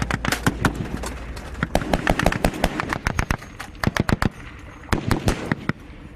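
Incoming gunfire in Afghanistan rattles out in rapid, loud bursts of sharp cracks, clustered volleys separated by short pauses, with machine-gun style automatic fire dominating throughout.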